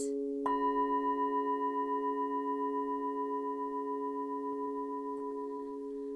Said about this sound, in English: So we're going to use Tibetan bowls. Sounds like this.